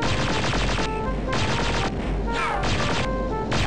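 Rapid gunfire bursts in the Star Wars Dark Forces video game, loud dense volleys in repeated pulses with brief gaps, heavy and continuous rather than a single isolated shot.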